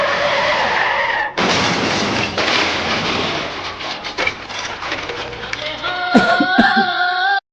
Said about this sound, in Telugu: బ్రేక్ అనుకుని యాక్సిలరేటర్ నొక్కాను.